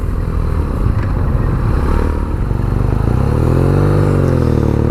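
A 2017 BMW R nineT Urban G/S engine runs close by with a raspy, rough note from its single exhaust outlet, revving up toward the end into a buzzing, rising drone.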